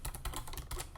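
Rapid clicking of computer keyboard keys while typing code, a close, dense patter of keystrokes over about a second.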